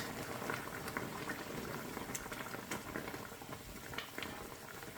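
Water boils in a covered pot of thin-cut beef ribs, a soft, continuous bubbling and pattering simmer heard up close and quietly, with no speech over it.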